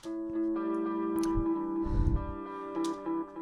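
Guitar through the Fruity Delay 2 effect in an emo rap beat: sustained, ringing tones with smeared echoes trailing behind a few plucked notes, moderately quiet and alone.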